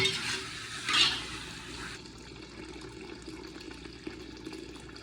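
Camel meat for a Saudi kabsa is poured into a hot pot without water and stirred. It sizzles loudly for about two seconds, then settles into a quieter, steady frying hiss.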